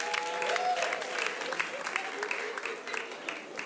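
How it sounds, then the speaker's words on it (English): An audience at a comedy show applauds a performer's parents, a steady round of clapping throughout with a voice briefly heard over it. "Please, Mona, clap for them."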